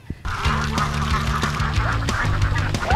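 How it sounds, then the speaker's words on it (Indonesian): A flock of ducks quacking in a rice field in a Garut village known for salted eggs, many overlapping quacks in a busy, steady chorus, close and loud. "Makanya di sini bebeknya banyak banget."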